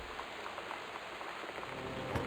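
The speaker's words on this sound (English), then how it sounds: "Northwest Weather Service reports high winds and torrential rain conditions" Steady rain hisses across the surface in the stormy ambience of the video game Gone Home. The wash is even and continuous, with no voices.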